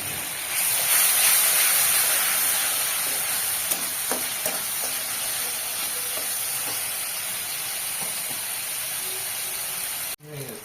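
Kashmiri chili frying in a pan sizzles with a steady bright hiss while being stirred, occasional scraping clicks over the frying, ending with a brief clatter.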